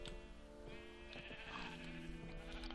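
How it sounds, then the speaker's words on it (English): A sheep bleats in the Minecraft video game, among multicolored sheep in a monastery animal area: one drawn-out, wavering bleat that carries through nearly three seconds, clear and close with no talking. "So we got our multicolored sheep."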